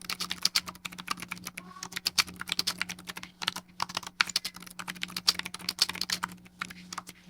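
Quick, irregular clacking of keys on a typewriter used for writing emails, close and crisp, bursts of keystrokes with brief pauses over a faint steady hum.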